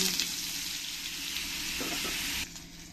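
Butter sizzles in a hot pan already holding a little oil, making a strong close hiss that runs steadily before suddenly dropping to a quieter sizzle near the end.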